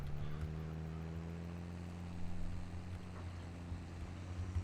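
A farm tractor's engine runs steadily nearby while baling oat straw, a low continuous drone with a few slight surges in load and no voices.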